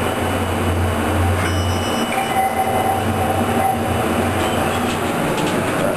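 A National hydraulic elevator at 211 Station Plaza, Mineola, runs with a steady, loud mechanical rumble and low hum, with faint squealing tones mixed in throughout.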